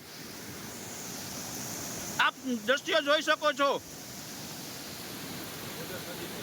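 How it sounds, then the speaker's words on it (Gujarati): Floodwater rushes fast through a breached field embankment near the Ojat river at Bamanasa Ghed, a steady broadband roar that continues throughout while someone speaks briefly in the middle. "આ પાણીને તમે ફ્લો જોઈ શકો છો, કેટલી સ્પીડથી પાણી જાય છે"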